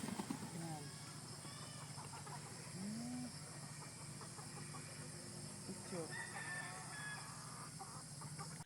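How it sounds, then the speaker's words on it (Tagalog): Sweater Boston stag chickens in a breeder's cording area, with clucking and brief rooster crowing calls scattered over a steady farmyard hiss, fairly faint, with people talking at times. "Malaking manok nga daw itong sweater Boston Stag, sabi ni Jay Fern"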